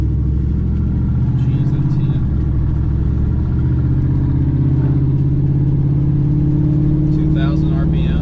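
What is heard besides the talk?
2006 GMC Sierra truck engine revving with true dual exhaust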